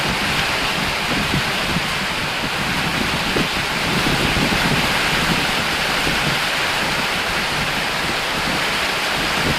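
Rain falls steadily at Jahangirnagar, a constant close hiss of drops on surfaces that stays even and unbroken throughout, with no speech.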